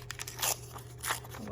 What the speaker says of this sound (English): I think I'm actually just gonna tear